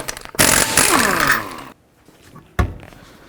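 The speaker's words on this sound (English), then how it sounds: "with a 19mm socket, take all 5 of your lug bolts off" A power tool with a 19mm socket spins off lug bolts on a 2001-2007 Volvo V70, a loud whirring burst of over a second, then quiet and a short second hit.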